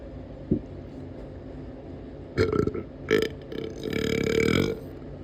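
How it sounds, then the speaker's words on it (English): A few loud, rough burps erupt from near-silence, two short belches followed by a longer drawn-out one, close to the mic with no talking. "Okay, here comes a burp. Big burp."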